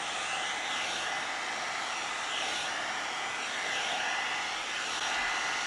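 A heat styling tool blows steadily over synthetic wig fibers, a continuous close airy whoosh with a whining motor hum that barely changes across the whole span, with no voices.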